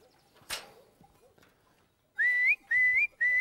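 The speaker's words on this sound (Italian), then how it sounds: "Io ho l'abitudine di fischiettare quando vado alla montagna, sempre." Someone whistles a short, bright tune in three rising and falling phrases, clear and close, in the mountains, after a quiet stretch with a single sharp click.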